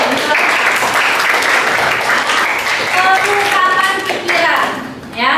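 Students in a classroom break into loud, close applause, clapping steadily for several seconds under a voice speaking over it before it tapers off.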